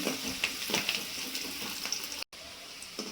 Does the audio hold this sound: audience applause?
no